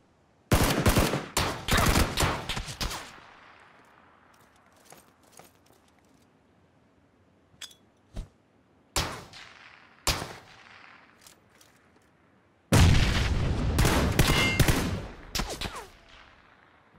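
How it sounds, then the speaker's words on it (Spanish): Gunfire in PUBG: Battlegrounds comes as loud rapid bursts at the start and end, with scattered single shots and echoing cracks between them. "Me disparan de la izquierda"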